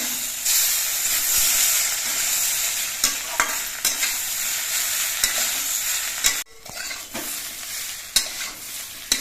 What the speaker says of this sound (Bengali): এবার নেড়ে আবার কিছুক্ষণ কষিয়ে নিতে হবে